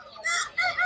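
Free-range village chickens at a poultry market, clucking in two short close calls, brief and fairly loud.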